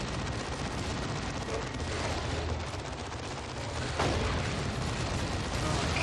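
Continuous artillery and gunfire rumble through a battle in the video game Dawn of War 2 Retribution, a dense, loud barrage of booms and rattling shots with a sharper blast partway through.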